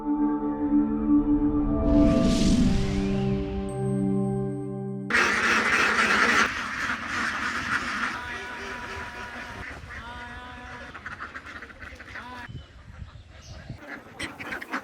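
Ducks quacking on a duck farm, a loud cluster of near honking quacks at first, then a busy overlapping chorus of many birds that gradually thins and softens.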